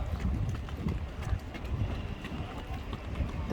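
Horse hooves clip-clop steadily amid busy outdoor street noise in London on a rainy day, with a low rumble of traffic and people talking in the background.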